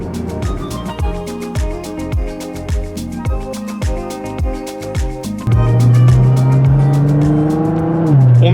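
A Nissan GT-R Liberty Walk tuned to 600 horsepower drives on cold winter roads, its engine revving hard through repeated quick upshifts, then settling into a loud, steady drone, close and with no talk.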